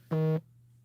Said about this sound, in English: actually that sounds like that was the notification